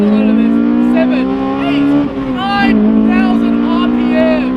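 A 1999 Honda S2000 with a hardtop screams at high revs up to 9,000 RPM, a loud, sustained, piercing engine wail with a brief dip and climb, while a person talks over it.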